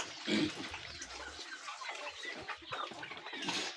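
Farm chickens kept in a coop cluck in short bursts, fairly close, with some rustling and a faint watery wash in the background and no talk.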